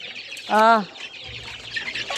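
A single drawn-out chicken call rises over a steady outdoor background, followed by faint scattered noises.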